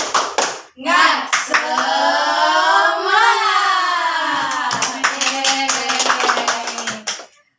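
A group in a school counselling session chants together in drawn-out unison voices, then breaks into a rhythmic burst of sharp, close hand claps toward the end.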